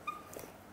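A single short, high whimper from a dog, close and fairly faint, quickly fading out.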